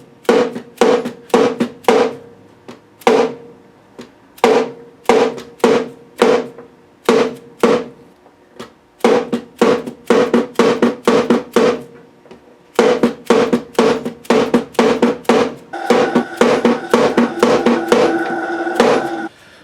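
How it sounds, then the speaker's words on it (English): A hammer taps frets into the fingerboard of an old Charles Bruno guitar under restoration: crisp, close, loud strikes in quick rhythmic bursts separated by short pauses, with a ringing metallic tone emerging among the final taps. "tap these frets in"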